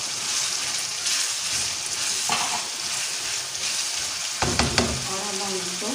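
Green chillies hit a pan of sizzling bitter gourd and onion masala, frying loudly and close with spoon stirring and a clattering scrape near the end; no voices.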